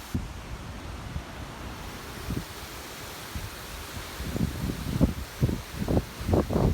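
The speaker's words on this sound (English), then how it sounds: "this is one of the very few waterfalls in the world that goes directly into the ocean." A waterfall plunges directly into the ocean, water rushing steadily into the sea beneath gusty wind, with surging splashes growing stronger toward the end.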